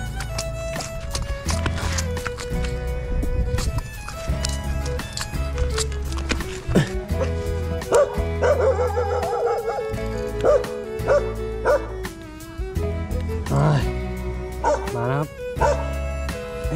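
A dog barks repeatedly in yips and bow-wows, close and loud, mixed with whimpers and other noise while a person talks over it.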